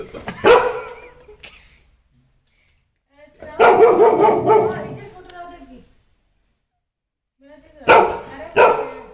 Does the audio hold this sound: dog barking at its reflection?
yes